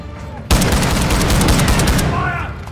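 Sustained gunfire erupts in the Call of Duty DMZ video game, a loud, dense burst of rapid shots starting abruptly and hammering on for about a second and a half before cutting off.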